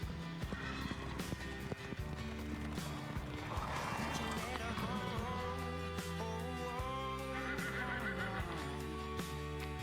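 Clydesdale horses neighing in a Super Bowl beer commercial, the whinnies mixed into a full, steady music bed with occasional hoof-like knocks throughout.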